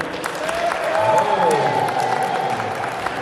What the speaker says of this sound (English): Clap for Vegeta.